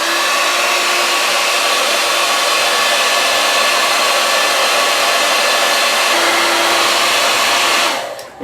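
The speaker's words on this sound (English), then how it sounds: "I heat this up with a hairdryer on high for 4 minutes to soften the lacquer." A hairdryer on high blows steadily and loudly at close range while heating the lacquered nut of a Gibson SG Standard guitar, its broadband whoosh holding constant for about eight seconds before cutting off.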